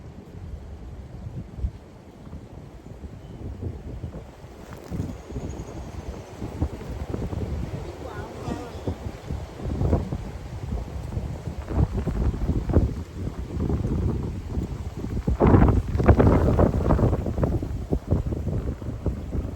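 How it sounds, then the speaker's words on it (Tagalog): Strong wind sweeps over a small fishing boat out on open water, a steady broadband roar and heavy microphone buffeting that swells louder toward the end, continuous throughout with no clear voices. "It's very windy,"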